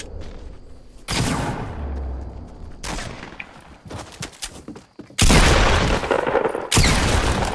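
Bursts of gunfire crack out in a video game squads match, loud and dense in two main volleys with scattered shots between, no voices over them.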